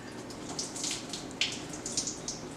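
Hot water poured over the skin of a salmon fillet makes a continuous close splashing stream with small surges and spatters throughout.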